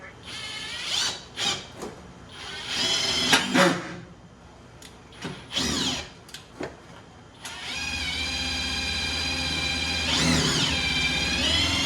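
A power drill drives sheet metal screws into a Monte Carlo lowrider's bumper, whirring in several short bursts, then running in a long continuous high-pitched whine near the end.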